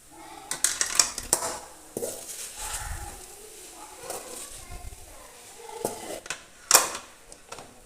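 Amla (gooseberries) are stirred in a pan, with a spoon scraping and clinking against the metal at irregular intervals, a few sharper knocks near the end, and muffled bumps in between.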